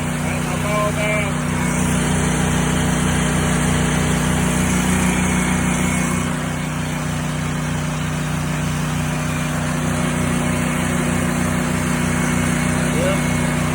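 A Honda GX690 gas engine drives an 8 gpm pressure washer, running steadily and loud with a constant throbbing drone and a hissing high spray throughout, close by.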